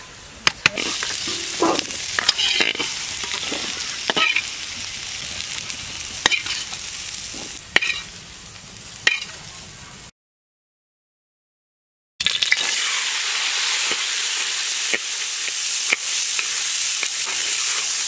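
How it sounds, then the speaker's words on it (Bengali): Raw peas frying in a pan, with a close, steady sizzle broken by frequent sharp scrapes and knocks of stirring. A two-second silent gap is followed by an even, uninterrupted hiss of frying, with no voices. "কাঁচা মটর ভাজা হয়ে গেছে, এবারে আমি তুলে নিচ্ছি।"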